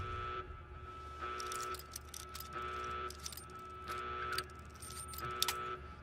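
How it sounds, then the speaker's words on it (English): Two electronic alarms overlap inside Fallout: New Vegas, modded with Viva New Vegas, around Freeside and the Strip. Steady tones pulse in a repeating cycle with bright bursts about every second, continuous and without talk. "Oh god, there's 2 alarms overlapping my head."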